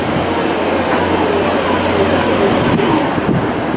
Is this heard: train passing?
yes